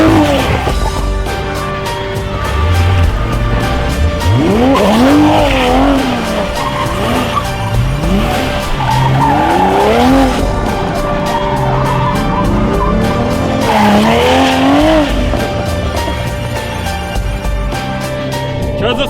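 A Toyota Supra A90 drifts a donut, tires squealing and skidding in long wavering howls over a loud, continuous engine roar that rises and falls with throttle, close and intense throughout.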